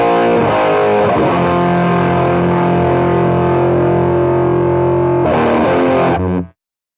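Heavily overdriven electric guitar chords through a Soldano G.T.O. Supercharger pedal ring out with thick, sustained distortion, then a second strum near the end before an abrupt cutoff.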